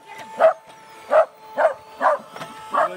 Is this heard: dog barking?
yes